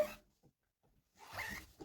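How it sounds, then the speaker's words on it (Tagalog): A zipper on the back of a size 4 office dress with sleeves is handled, giving a short faint rasp at the start and a longer, louder zipping run near the end, with a quiet gap between. "May zipper sa likod."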